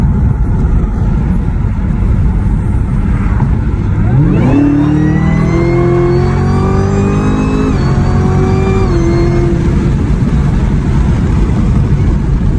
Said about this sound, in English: get the intake right away, and I promise you, you're gonna hear that whine out of the ZL1 way more